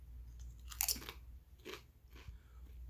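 Spicy Nacho Cheese Doritos chips, thicker than regular ones, are crunched in a few close, crisp bites, each a short crackly burst followed by quieter chewing against a low background hum.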